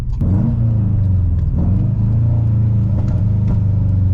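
Engine of a daily-driven racecar, a steady low rumble with small rises in revs while driving, heard up close from inside the cabin.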